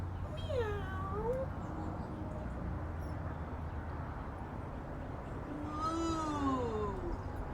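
Children doing the yoga cat pose imitate a cat's meow, with two drawn-out, falling meows, one near the start and one near the end, over steady background noise.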